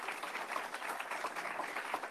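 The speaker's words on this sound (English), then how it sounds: "can we give a really big round of applause for Anita?" Conference attendees applaud an organiser at a research meeting, producing a soft, even patter of many hands that sounds fairly distant and continues steadily without pause.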